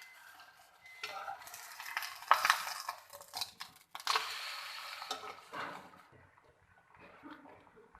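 Radish paratha cooking in a pan over a medium flame, with soft irregular scraping and faint sizzling bursts, louder in the middle stretch and fading toward the end; no one talks.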